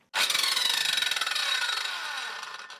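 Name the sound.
Eltos PD-185 circular saw starting and running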